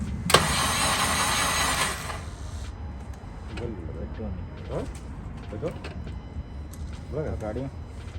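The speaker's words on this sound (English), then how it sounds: "After a lot of cranking, a little bit of throttle, we got it to run." A weak-battery Honda Civic Hybrid, 2006-2011, cranks on a booster pack: a loud burst of starter churn opens, then a rough, uneven engine runs at moderate level while voices talk over it.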